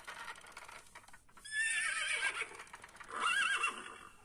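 Horses neighing shrilly on a farm, two loud whinnies rising over a background of hoofbeats as the animals arrive and gallop in, with no talking.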